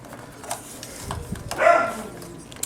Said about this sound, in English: Dogs apparently don't like it either, if you guys heard that.